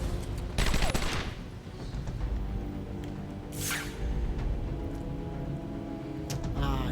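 Bursts of gunfire in Batman: Arkham Asylum, loud broadband volleys around a second and again near the middle, with whooshing swipes and a dense rumbling game soundscape throughout.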